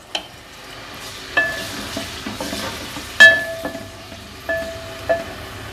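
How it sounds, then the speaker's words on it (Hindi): Green chillies and onions frying together in a pan for a mixed vegetable dish of potato, peas and carrot, with a low steady sizzle broken by a few sharp clinks and stirring knocks; no talking. "इन सबको मैं इकट्ठे ही डालूँगी और देखिएगा इकट्ठे ही ये भुने जाएंगे।"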